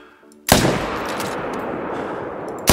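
A hunting rifle fires in Call of the Wild: one sharp, loud shot, then a long rolling echo that fades slowly. A second report begins just at the end.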